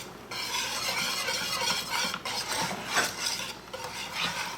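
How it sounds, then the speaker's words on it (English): A spoon scrapes steadily around a bowl of French silk pie filling set in an ice bath, a close, continuous rasping stir with brief pauses and no voices. "We're probably going to stir it every 5 to 10 minutes."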